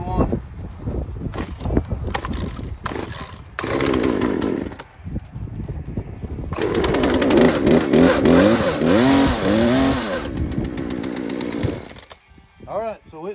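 A primed, choked chainsaw cranks with several pull-start bursts, then catches and runs loudly, revving up and down in wavering surges before cutting off. Someone talks between the pulls.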